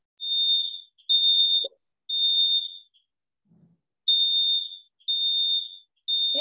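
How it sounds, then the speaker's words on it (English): Electronic smoke alarm chirping during an online meeting: five sustained high-pitched beeps of about half a second to a second each, evenly spaced with short gaps, loud and alone, with a brief low thump between them. "Here, Mary Ellen, is there something beeping?"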